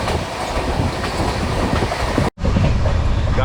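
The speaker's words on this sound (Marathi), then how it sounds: "और ये हमारी ट्रेन महाराष्ट्र एक्सप्रेस और ये S6 में हम बैठे हुए बिना टिकट के" Maharashtra Express passenger train running on its line, heard from inside a coach: a loud, continuous rumble with rail clatter that drops out for a moment and then resumes just as strongly.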